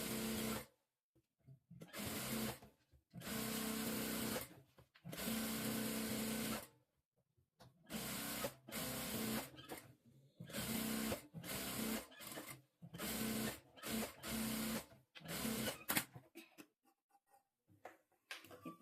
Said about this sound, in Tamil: இப்போ ஃபுல்லாக சுற்றிலும் தையல் போட்டுக்கலாம்.